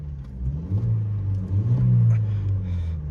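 A 1.6 Twinport Opel/Vauxhall Astra H (MK5) engine revs up with a deep, steady rumble that climbs and holds, close by and fairly loud, with no talking.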